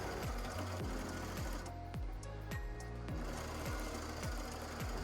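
A sewing machine stitches a seam in canvas for a tote bag made from a thrift store tee, running steadily with a fast, even mechanical chatter throughout.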